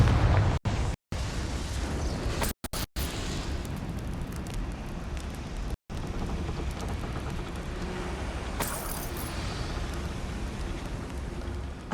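A Confringo blasting spell goes off in Hogwarts Legacy, with a loud rumbling burst and crackling debris that continues steadily, cut by a few brief dropouts, followed by a faint high rattle near the end.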